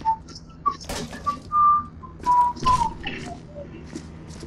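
A person whistles a tune, a clear melodic line of sustained and sliding notes close up over faint background noise, with no talking.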